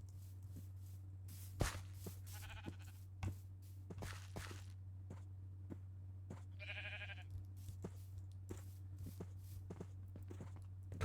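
Two short sheep bleats in Minecraft, faint and wavering against a steady low hum, with soft footsteps tapping at irregular intervals throughout.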